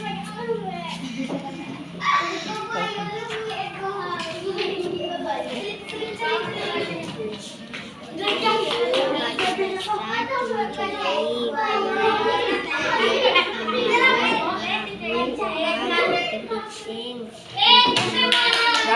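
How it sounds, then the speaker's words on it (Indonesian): Schoolchildren in a classroom clap their hands together, bursts of uneven applause mixed with lively children's chatter and an adult voice, loud and close throughout. "Bagus, berikan tepuk tangannya semuanya"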